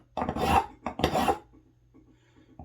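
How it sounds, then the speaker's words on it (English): A metal file rasps over the threads of a Yanmar 2GM20 sea water pump aboard a boat at sea, two firm close strokes and then a lighter scrape. "I'm going to file back towards the washer."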